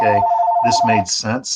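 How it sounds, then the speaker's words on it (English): A mobile phone rings with a steady electronic tone, its melody running through ongoing talk from a nearby speaker. "sorry about my phone there"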